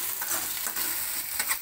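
Tomatoes and onions sauté in a pan, giving a continuous close sizzle with quick scraping stirs and no voices.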